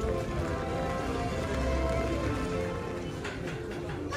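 Rain falls at Disneyland ahead of a nighttime projection show, a steady hiss of drops on surfaces mixed with a busy crowd murmur and faint background music.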